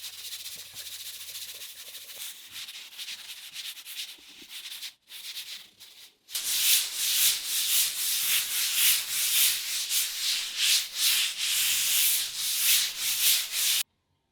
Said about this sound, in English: I decided to hand sand the whole thing so I get rid of some of the dust and small particles